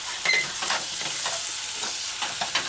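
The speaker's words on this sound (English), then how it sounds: "you're stirring in your pot as you would stir fry" Cabbage chicken stew is stirred in a pot after a spoonful of white vinegar goes in, with a steady loud sizzle and frying hiss under repeated scraping strokes of the spoon against the pot.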